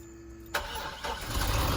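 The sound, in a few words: manual-transmission car engine starting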